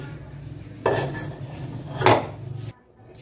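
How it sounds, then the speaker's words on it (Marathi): Mango ladoo mixture scraped from a pan onto a plate: two distinct metal-on-metal scrapes a second apart over a faint hum, close and moderately loud, then quiet. "तयार केलेलं मिश्रण मी एका प्लेटमध्ये काढून घेत आहे"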